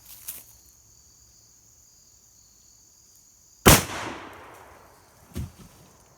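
A single loud shotgun blast from an MKA 1919 firing a 3-inch Magnum shell at an outdoor range, a sharp crack with a rolling echo tail, a faint click beforehand and a softer thump after, against a steady high insect-like whine.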